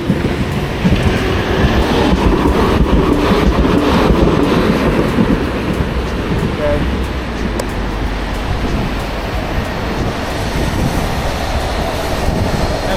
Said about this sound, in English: And the tram is coming, so we're gonna hit that tram